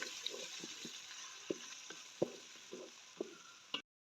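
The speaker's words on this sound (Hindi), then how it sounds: "लहसुन और अदरक फ्राई हो चुका है।" Garlic and ginger paste frying in oil in a pot, a steady faint sizzle broken by several soft stirring clicks and scrapes, with no voices, for a home-style fried dal mash.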